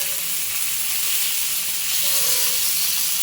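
Fish pieces fry steadily in hot oil in a pan, giving a loud, continuous sizzle and hiss with no break for the whole stretch. They are being cooked until they blacken a little on the outside.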